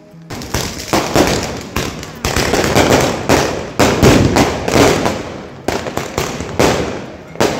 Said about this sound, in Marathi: जमिनीवर खूप सारे फटाके फुटले चमकले वेगवेगळे तारे